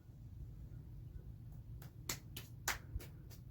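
A person clapping inside a fire-damaged abandoned house, a handful of sharp, separated claps over a low rumbling background.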